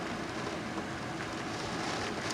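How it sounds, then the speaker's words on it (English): Heavy torrential rain falls during a severe thunderstorm, a dense, steady roaring hiss that stays loud and even throughout with no clear breaks. "That is a pretty bad torrential downpour"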